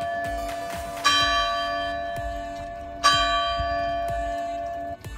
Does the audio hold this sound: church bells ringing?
yes